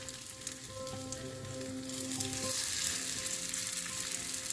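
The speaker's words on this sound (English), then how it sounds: "Once the oil is heated, and I think it's about heated up, you want to go ahead and add the potato cakes." Potato cakes fry in heated avocado oil, giving a steady crackling sizzle that grows denser and louder about halfway through, close and with no talking.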